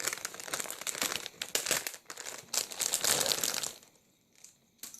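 Plastic bubble-wrap packaging from an AliExpress parcel crinkles and rustles in bursts as it is unwrapped close by, pausing briefly near the end.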